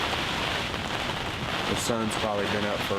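Heavy rain pours steadily on a hunting blind during gusty, stormy turkey-season weather, a dense close hiss throughout, with someone talking over it toward the end.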